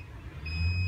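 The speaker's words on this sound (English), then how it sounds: "Oh no, there's a beeping again." A steady electronic beep tone switches on partway through and holds continuously, fairly quiet, over a low droning rumble, while balancing a pack of 560 18650 battery cells.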